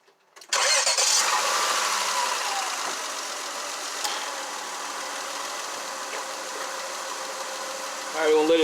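A car engine cranks and starts after a VTEC spool valve gasket replacement and oil pressure switch O-ring change, then settles into a steady, fairly loud idle that runs on alone for several seconds.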